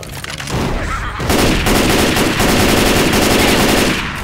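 Sustained automatic gunfire in the video game Left 4 Dead, a loud, steady stream of rapid shots that starts after a short lead-in and continues to the end.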